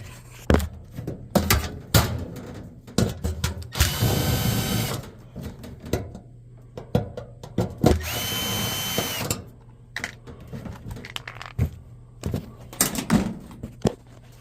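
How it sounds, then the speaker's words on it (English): A cordless drill whirs in two short bursts to back out screws from a clothes dryer's dust cover, surrounded by clicks, taps and clattering of metal parts handled up close. "I'm going to take these 2 screws out right here right quick."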